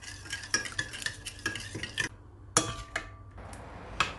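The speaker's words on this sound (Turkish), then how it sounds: "Ve bu malzemeleri ilk olarak karıştırıyorum." Spoon stirring a sugar and salt mixture in a bowl for poğaça dough, with close, rhythmic scraping strokes and light clinks, a brief pause partway, and no voices.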